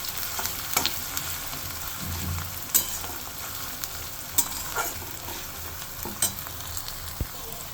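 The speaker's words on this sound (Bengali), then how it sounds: "এবার আদা রসুন কুচি দিয়ে এটা আমি ভালোভাবে একটু ভাজা নিব" Chopped ginger and garlic fry with onions in a pan, giving a soft, steady sizzle with occasional stirring scrapes and taps, fairly quiet and close.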